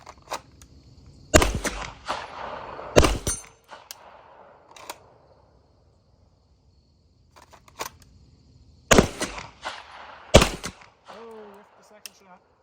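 Handgun shots fired at a target with iron sights ring out loud and sharp in pairs, with someone speaking briefly between them outdoors.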